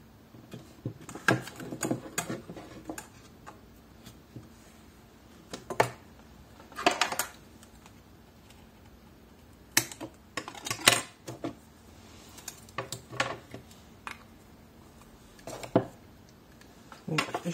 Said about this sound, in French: Donc là, je mets le scotch.